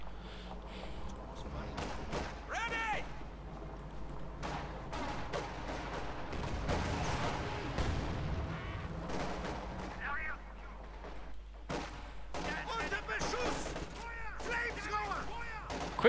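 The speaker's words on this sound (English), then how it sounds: "Quick grenade assault into the advancing path." In a Company of Heroes 2 battle, grenade assault blasts and rifle and machine-gun fire crackle in repeated bursts and thuds over a low rumble, fairly quiet overall, with a commentator talking throughout.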